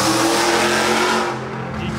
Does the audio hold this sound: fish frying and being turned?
no